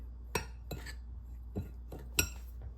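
Dry muffin ingredients for healthy zucchini muffins are stirred in a bowl, with about six sharp utensil clinks against the bowl in an irregular rhythm over a quiet background.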